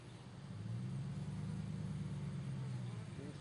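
Low, steady buzzing hum of many honeybees close by at a hive entrance, continuous and droning with a slight rise and fall, no voices.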